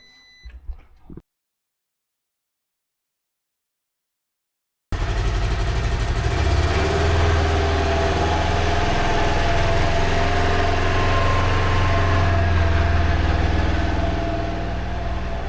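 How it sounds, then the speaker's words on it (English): After a short quiet stretch, a Polaris Xpedition side-by-side fitted with an upgraded ECU and clutch kit settles into a steady, fairly loud idle that holds evenly to the end. "start it up, revved it up, let it come back down to idle"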